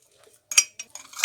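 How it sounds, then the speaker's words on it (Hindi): A spoon clinks against a cup while cupcake batter ingredients are mixed inside it, a few quick close scraping taps in short bursts, alone. "हम मिक्स करेंगे अच्छी तरह सब चीज़ों को"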